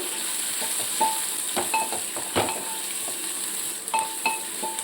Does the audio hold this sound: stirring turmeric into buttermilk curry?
yes